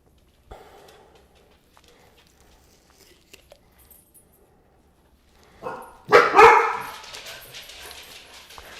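Excited dogs barking in a burst, loud and near, after a quieter stretch in a kitchen where chicken is being deboned with a Chinese knife.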